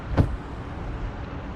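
Maruti Ertiga car on the road, a steady low engine and road rumble heard from inside, with a brief thump or click near the start, and no speech.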